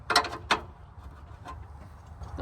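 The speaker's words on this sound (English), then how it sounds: "we're just gonna grab all the wrenches" Metal wrenches grabbed from a toolset, a few clinking, rattling metallic knocks close by, loudest in two quick bursts at the start.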